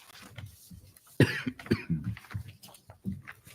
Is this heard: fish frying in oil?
no